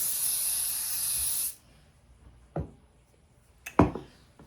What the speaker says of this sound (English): And spray the activator spray.